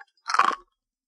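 A single crunchy bite into a raw carrot, one short close burst of crisp crunching lasting about a third of a second, isolated against silence.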